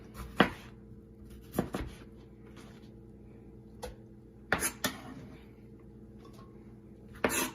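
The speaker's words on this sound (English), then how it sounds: "Give a rough cut to the onions as well." Knife rough-chopping onions on a board for salsa, with a handful of sharp, uneven chops spread across the clip over a quiet kitchen background.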